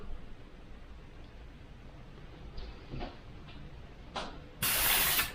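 A small airbrush sprays FW pearlescent ink in short, thin hissing bursts that grow into a louder, steady spray near the end, close up in a quiet room.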